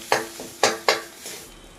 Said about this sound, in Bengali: এবার বেশ কিছুটা সময় ধরে আলুর সঙ্গে সব মশলাগুলো কষিয়ে নেব।